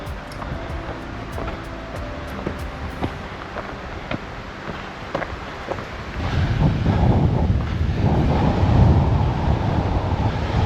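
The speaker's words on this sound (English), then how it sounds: "Quite windy out on this point here" Strong wind buffets the microphone on an exposed coastal point along the Pipers Lagoon trail in Nanaimo, British Columbia, a steady roar that swells louder in the second half, with faint surf beneath.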